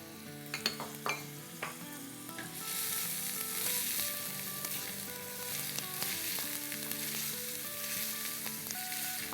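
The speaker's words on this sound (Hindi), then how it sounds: "अब हम इसमें डालेंगे ऑमलेट कट अनियन जो कि 1 कप है" Chopped onions, a cup's worth, hit a hot pan for dhaba-style chicken keema and sizzle steadily, with stirring clinks and scrapes near the start before the frying settles into a continuous close hiss.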